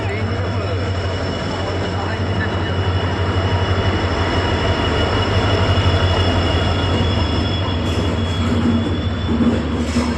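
A train rolls into a station with a steady loud rumble and low hum of wagons, a faint wheel squeal near the end.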